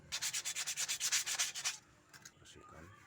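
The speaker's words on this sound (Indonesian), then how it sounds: "Di bagian permukaan kampas ini akan saya amplas sedikit untuk menghindari slip dan menambah kepakeman." Brake pad surface on a car being sanded by hand, about a dozen steady rhythmic rasping strokes close up, then the scraping stops and a few faint handling sounds follow.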